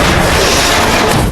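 A grenade goes off and flips a car over, one loud, deafening blast with debris and crashing noise packed into a single burst that cuts off abruptly.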